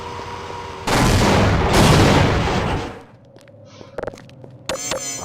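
A grenade goes off in a first-person shooter game, a loud booming blast that rumbles for about two seconds and then fades. A few sharp game clicks and shots follow, and no one speaks.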